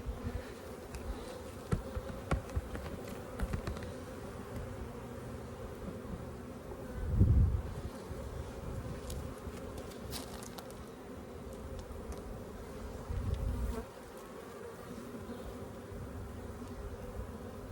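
Honey bees drone steadily around an opened nucleus hive of frames, a close, continuous buzz with individual bees swelling louder as they pass near, no talk.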